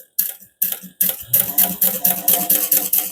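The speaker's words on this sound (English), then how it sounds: "now we're going to top stitch around the edges of this using a 1/8 inch seam allowance" A sewing machine top stitches around the edges of a Harmonica hobo bag at a 1/8 inch seam allowance, running in several close, loud bursts of rapid needle clatter with brief stops between them.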